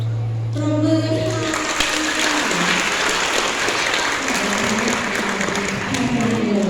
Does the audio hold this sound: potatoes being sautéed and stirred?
no